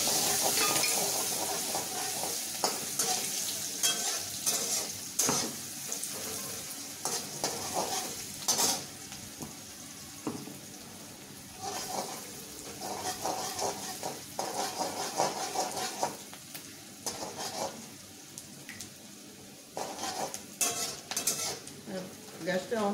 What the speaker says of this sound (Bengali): এবার দিয়ে দিলাম সরু সরু করে কাটা একটা ছোট্ট পেঁয়াজ।